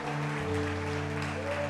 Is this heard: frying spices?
no